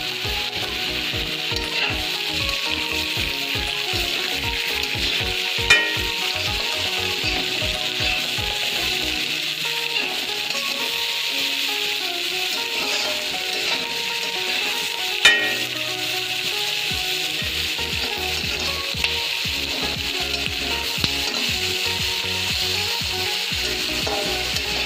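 Capsicum and onion sizzle steadily in a pan with chicken pasta vegetables, a continuous hiss with scattered scraping stir strokes and a few sharper clinks, close and without talk.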